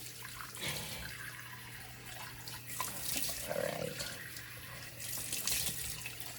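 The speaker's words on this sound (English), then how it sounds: "Let me rinse that off real quick." Tap water runs into a bathroom sink while face cleanser is rinsed off, with intermittent splashing and the flow rising and falling.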